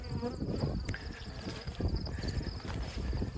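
A mite-troubled honeybee colony buzzes in an opened hive: a dense, continuous hum of many bees close by, with individual wingbeats flitting past.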